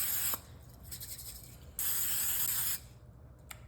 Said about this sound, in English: you gotta make sure to spray your pan.